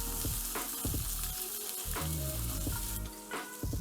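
Chopped onion, garlic and fresh ginger sizzle and crackle in a hot pan, steady frying close up with scraping stirs at intervals and no voices.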